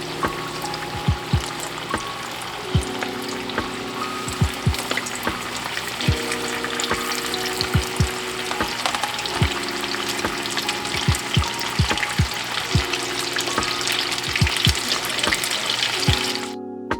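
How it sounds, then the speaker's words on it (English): Spicy chicken strips frying in a pan, a steady close sizzle and crackle broken by repeated soft knocks and scrapes as pieces are added and moved, with no talking. "now I'm gonna start frying the strips,"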